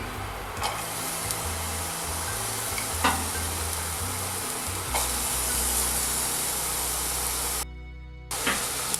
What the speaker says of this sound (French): on va bien faire suer les oignons sans les colorer